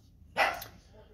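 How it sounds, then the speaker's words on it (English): Indoor dogs barking at the door, a single sharp bark heard fairly close and moderately loud against a quiet room. "The dogs think somebody's coming to the door."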